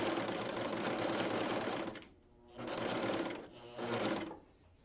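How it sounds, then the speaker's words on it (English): A serger sewing machine stitches off the edge of fabric while making DIY unpaper towels, running with a steady, close mechanical whir in three bursts separated by brief pauses. "I'm going to lift up the presser foot and then continue to sew off the edge of the fabric"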